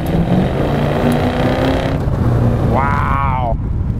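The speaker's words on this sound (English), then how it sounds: "that big block really wakes up, sets you back in the seat. She sounds awesome." A 1972 Chevrolet Chevelle big block V8 roars steadily at full throttle from inside the cabin, loud and continuous, with a brief voice rising over the engine noise near the end.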